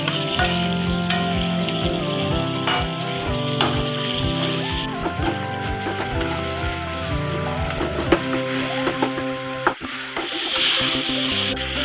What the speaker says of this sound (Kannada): ಈಗ ಆಲ್ರೆಡಿ ಹೆಚ್ಚಿಟ್ಕೊಂಡಿರ್ತಕ್ಕಂಥ ಟೊಮೆಟೊ ಹಣ್ಣ ಹಾಕ್ತಾ ಇದ್ದೀವಿ